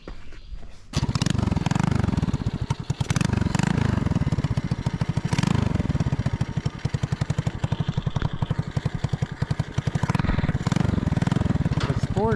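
A 125cc four-speed mini hard tail bobber motorcycle engine starts and runs with a rapid, steady chugging putter close by, and a voice talks over parts of it.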